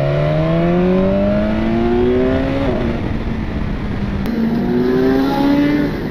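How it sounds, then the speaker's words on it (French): BMW S1000XR sport-touring motorcycle engine pulling uphill, a steady loud drone whose pitch rises through the gears with brief drops at shifts, running continuously with no talking. "Je vous laisse avec la chanson, le chant du moteur, un petit peu."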